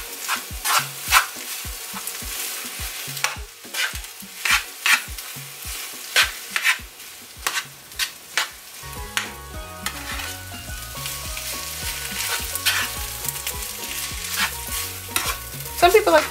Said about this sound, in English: Continue, break up the rice.